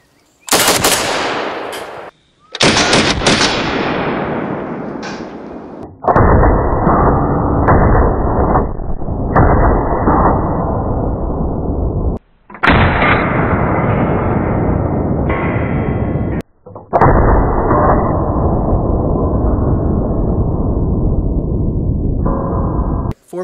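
Rapid strings of loud, close gunfire through a three-slot JMac prototype muzzle brake, arriving as several sustained bursts separated by short silent pauses.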